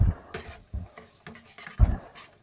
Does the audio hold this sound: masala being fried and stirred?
yes